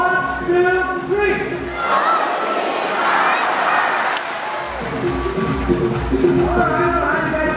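Audience at a Chinese New Year event shouting a phrase together in unison, a loud crowd roar with clapping mixed in, continuing across the whole stretch at close range.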